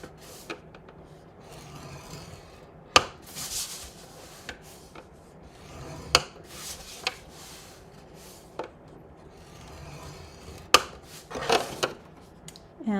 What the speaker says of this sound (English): we're going to score this at the 3/4 inch mark on all 4 sides